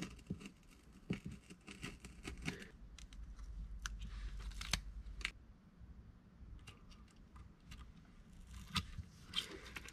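Small clipping and scraping cuts while trimming part of a fingerboard setup, with close, quiet ticks and crunches in uneven clusters.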